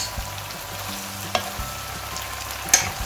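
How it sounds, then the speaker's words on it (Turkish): Broad beans fry in olive oil while a wooden spoon stirs them. A steady close sizzle runs under low scraping and knocks, with two sharper clacks. No one speaks. "Baklanızı tahta kaşıkla karıştırın metal e, kaşık kullanmayın. Bakın ne kadar güzel olmuş. Kavruluyor."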